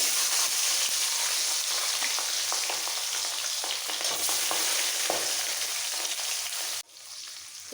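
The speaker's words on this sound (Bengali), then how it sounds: "নুন হলুদ সর্ষের তেল দিয়ে মাখানো মাছগুলো অল্প অল্প করে ভেজে নিতে হবে" Small tangra fish coated in salt, turmeric and mustard oil fry in a wok, giving a continuous close sizzle with scattered pops, then a sudden drop to a quieter sizzle near the end.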